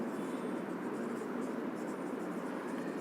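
Pen scratching steadily across paper while sketching a simplex progressive lap winding diagram for a DC machine, a continuous close, moderately loud scraping with no speech.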